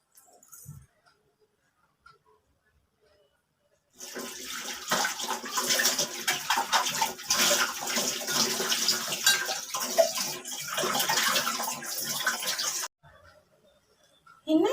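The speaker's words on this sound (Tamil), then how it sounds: "சரி அத்தை சாமான் கழுவிட்டு வந்துடுறேன்" Water from a tap runs steadily for about nine seconds while dishes are washed in a home kitchen, with brief clinks of utensils before and after, no talking.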